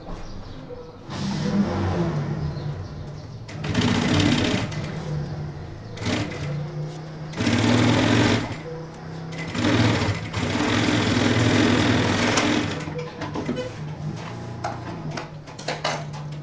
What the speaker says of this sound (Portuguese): A gente vai jogar ele aqui, ó, costurando com ele pela lateral.